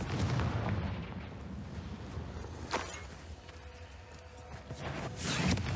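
Confringo spell explosion in Hogwarts Legacy, a booming blast with a sharp crack midway and rumbling low roar throughout, ending in another swell of noise.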